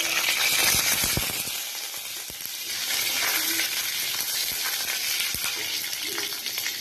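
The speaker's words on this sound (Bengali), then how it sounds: "তেল দিলাম, শুকনো লঙ্কা, কালো জিরে দিলাম" Dried red chilies and black cumin sizzle in hot oil with a bright, continuous crackling hiss, dotted with sharp pops and a few utensil clinks throughout.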